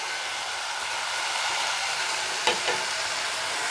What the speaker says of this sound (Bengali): ভালোভাবে মিশিয়ে নিব সবগুলো একসাথে